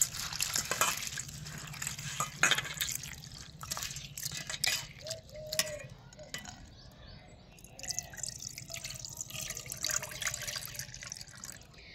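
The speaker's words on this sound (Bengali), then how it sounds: "এবার আমি এই চিড়েটাকে 2 থেকে 3 বার ভালো করে ধুয়ে পরিষ্কার করে নেব।" Flattened rice (chira) is rinsed by hand in a bowl of water, with close splashing, dripping and swishing in uneven bursts and soft clinks between, no talk.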